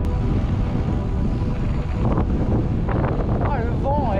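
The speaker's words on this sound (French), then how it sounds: "le vent est trop fort. C'est glaçant." Strong, icy wind on the Pic du Vautour mountain ridge buffets the microphone in a loud, continuous roar, while a voice speaks briefly over it toward the end.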